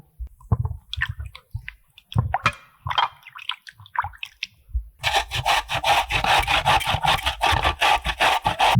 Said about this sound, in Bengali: এবার কপিটাকে ভালো করে ধুয়ে নিয়ে গ্রেটারে গ্রেট করে নেব